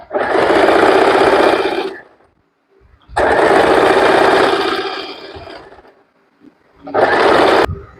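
A Fashion Maker sewing machine fitted with a presser foot runs a zigzag stitch in three loud, close bursts of steady motor whirring, separated by short pauses.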